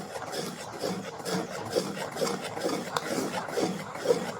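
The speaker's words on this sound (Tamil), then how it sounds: "இப்போ நல்லபடியாக நாங்கள் கிண்டி கொண்டிருக்கணும்" Thick urad dal kali cooked with coconut milk being stirred in a pot, giving a soft, continuous scraping and gloopy rubbing of the spoon through the dense mixture, moderately quiet and close, with no speech.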